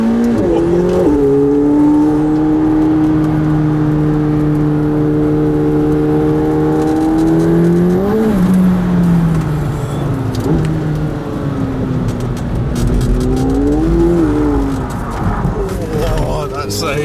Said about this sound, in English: I think we're heading out in the 720 to go and see what this car's like on track for the first time.